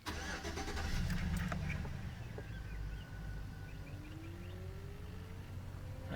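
A running engine on a 2005 Chevrolet Silverado hums steadily and close as the A/C compressor kicks on, with a faint whine rising through the drone and birds chirping faintly in the background.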